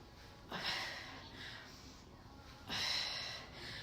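Two deep, forceful breaths during a full-body workout, each a loud rushing exhale that swells and fades, with quieter breathing in between.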